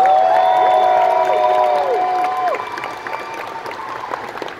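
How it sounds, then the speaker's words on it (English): At a large anime convention masquerade, the audience claps and cheers loudly while bright music tones ring out, and the applause thins and fades toward the end. "Let's have one more huge round of applause for our sponsors."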